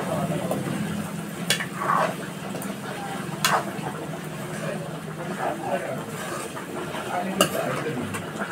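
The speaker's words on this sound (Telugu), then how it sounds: "ఈ గ్రేవీ అంతా ముక్కకు పట్టేంత వరకు మంచిగా ఫ్రై చేయండి." Chicken fries in gravy in a pan over a high flame, giving a steady close sizzle with occasional stirring scrapes and utensil clinks against the pan throughout.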